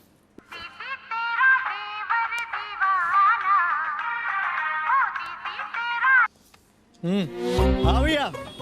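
A melodic electronic ringtone plays steadily for several seconds, then stops and a voice speaks briefly.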